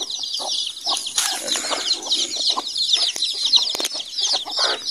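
A brood of about twenty chicks peeps in a dense, continuous high chatter with two mother hens clucking among them on a Philippine farm, close and loud.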